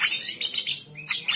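Young straw-headed bulbuls, a pair about two to three months old, give quick bright chirps in close, repeated bursts with a short pause near the middle.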